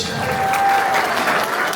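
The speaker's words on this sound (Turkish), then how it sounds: "Damat kardeşime kuvvetli alkış" Wedding guests applaud loudly for the groom's brother at a grand wedding celebration, a dense, steady wash of many hands clapping close by for a couple of seconds, with a sustained tone riding over it.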